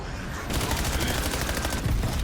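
Rapid automatic gunfire in Black Ops 7 as a player shoots at an armored zombie boss, Uber Klaus, with dense bursts of shots filling the clip loud and close after a brief quieter start.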